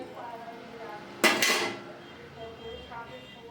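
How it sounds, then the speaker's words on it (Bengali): A lid set onto a pot of cooking vegetables, heard as one sharp metallic clank followed by a short rattle as it settles, then quiet kitchen background. "এবার ঢাকাও দিয়ে দিলাম, একটু সিদ্ধ হোক।"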